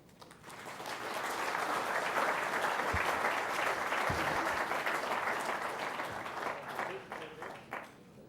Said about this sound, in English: And give another round of applause for Honorable Minister Mr. Mukherjee